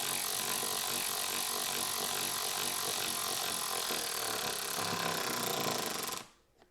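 A Ryobi 4V cordless 3/8-inch ratchet drives lag screws into a wooden workbench with a continuous close motor whir and grinding rub of screw in wood, then stops abruptly near the end.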